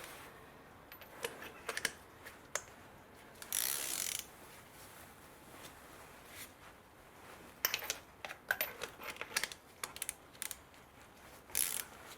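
A ratchet tightens spark plugs on a 2010 VW Golf 1.4 engine, giving scattered bursts of quick clicking and a few sharp knocks, close but fairly quiet.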